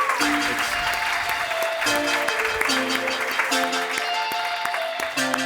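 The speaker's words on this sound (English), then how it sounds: "Give another applause" Audience applause at a student innovator competition event, clapping from a crowd mixed with recurring tonal music or chimes underneath, continuous and fairly loud throughout.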